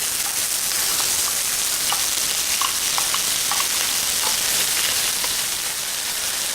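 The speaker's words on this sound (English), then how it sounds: "We are going to cook the onion for 1 minute" Onion frying in hot ginger-infused oil for a mushroom wild rice soup, a steady broadband sizzle with faint scattered pops and crackles. The sound holds at an even level throughout, with no talk.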